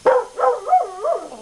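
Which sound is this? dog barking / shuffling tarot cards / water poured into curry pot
dog barking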